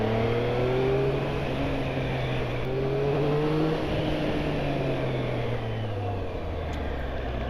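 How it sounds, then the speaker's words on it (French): Triumph Street Triple RS 2023 three-cylinder engine with an aftermarket exhaust revving steadily and loud, a continuous droning growl with rising and falling pitch throughout, no talk. "quand elle tourne et que tu mets juste un petit coup d'accélérateur, c'est plus rock qu'avec le pot d'origine"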